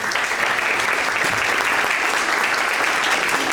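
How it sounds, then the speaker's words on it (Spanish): A crowd at an evening book presentation event gives sustained, even applause, a thick wash of clapping that stays loud and steady throughout with no pauses. "la reconocida periodista Mariela Balbi, para quien pido un fuerte aplauso"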